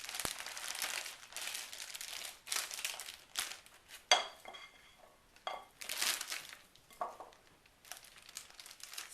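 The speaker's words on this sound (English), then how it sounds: "we're going to put our donut mixture into the bag so we can pipe it into the donut pan" Pumpkin donut batter gets spooned and pushed into a plastic piping bag, with bursts of crinkling plastic, soft squelches and a few utensil taps against a bowl, close up and fairly quiet.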